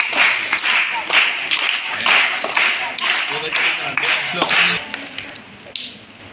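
An audience at a school event claps in rhythmic bursts, the applause fairly close and lively, with a voice heard among it.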